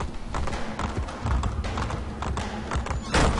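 Horse hooves clatter in a quick galloping rhythm, with thumping footfalls and a snorting neigh, game audio from Assassin's Creed Brotherhood.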